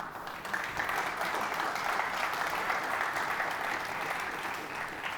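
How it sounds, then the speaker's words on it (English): A conference audience gives a round of applause, a full, steady patter of many hands clapping at moderate loudness. It swells quickly and holds evenly, then eases slightly toward the end. "we have to give a round of applause for that."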